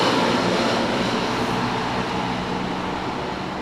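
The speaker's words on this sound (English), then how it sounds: "Sorry about the traffic, guys. We're on quite a busy road here" Traffic rushes past on a busy road beside the old hanging place at York Tyburn, a loud, steady whoosh that slowly fades.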